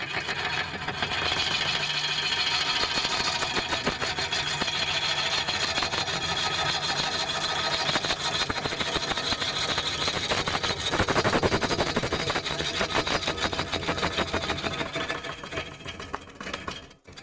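A bowl gouge cuts a very wet, out-of-balance wood bowl blank on a lathe, making a loud, continuous, rough roaring chatter with a steady motor hum beneath. It carries on unbroken for most of the stretch and trails off slightly at the end.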